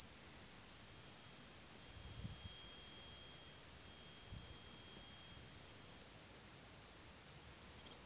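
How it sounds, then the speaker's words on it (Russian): An electronic circuit drawing about five amps emits a loud, steady, piercing high-pitched squeal at a certain duty cycle and frequency, holding for about six seconds before cutting out, followed by a few brief chirps. "писк, он при определенной скважинности происходит, либо при определенной частоте, когда скважинность максимальна. Он так громко начинает пищать"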